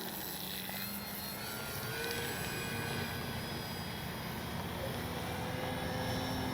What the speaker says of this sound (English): Just a good flying plane.